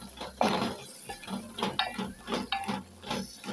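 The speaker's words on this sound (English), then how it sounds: "So I'm going to stir this a little more" A pot of okra and tomatoes is stirred in short, uneven scrapes and soft clinks of a utensil against the pot, several strokes close by with no talking.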